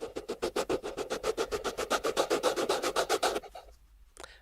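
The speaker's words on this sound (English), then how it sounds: "Ooh, that's an erase sound." Eraser sound effect played in Ecamm Live broadcasting software: a rapid run of about twenty rhythmic rubbing strokes for three and a half seconds, fairly loud and alone, then a brief faint scrape after a short gap.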